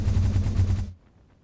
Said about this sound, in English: let's take this little hypertube cannon